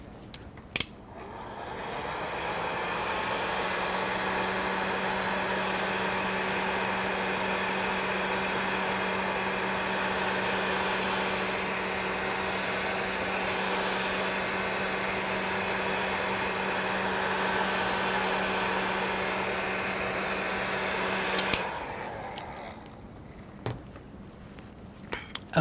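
A hair dryer, or a similar blower, runs on a painted oyster shell, giving a steady loud whirring hiss with a constant hum for about twenty seconds, then clicks off, followed by a few soft knocks.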